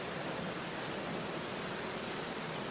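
Steady rain pouring outside in the video game Black Mirror, a dense, even hiss of falling drops that continues unbroken and alone throughout.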